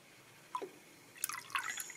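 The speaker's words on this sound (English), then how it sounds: "in my other hand, I've got water, the tap water. So if you pour it in" Tap water poured into diesel fuel in a glass cup gives a couple of separate drips and then a brief bright splashing pour, close and fairly soft.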